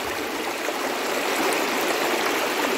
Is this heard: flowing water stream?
yes